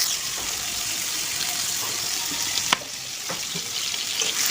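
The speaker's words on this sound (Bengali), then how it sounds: "ওই তেলে আমি আলুটা ভেজে নিচ্ছি" Sliced potatoes fry in hot oil left from frying prawns in a kitchen pan, giving a steady, close sizzle with a few sharp clinks of a utensil stirring.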